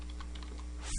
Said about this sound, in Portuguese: abrir um prompt de comando cmd e digitar o comando gpupdate